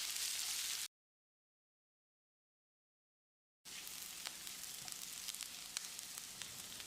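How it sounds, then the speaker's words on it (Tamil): Sliced onions sauté in hot oil in a pan, a steady, soft crackling sizzle that cuts out into a few seconds of silence before resuming with scattered pops. "வெங்காயத்தை செவந்து வர்ற அளவுக்கு வதக்கிடலாம்."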